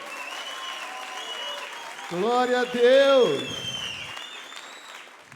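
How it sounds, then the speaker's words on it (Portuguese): A church congregation applauds during a worship service, with clapping running throughout while someone speaks loudly and briefly over it in the middle. "Dê mais um aplauso a ele."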